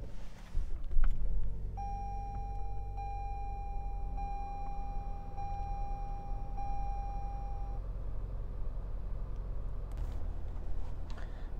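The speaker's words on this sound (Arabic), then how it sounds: "دخلنا داخل السيارة ونشغلها أول شيء ونقول بسم الله." A 2023 Lexus ES250 starts with a brief burst as the engine catches, then settles into a low, steady idle hum inside the cabin. A clear electronic dashboard chime repeats over the hum for several seconds.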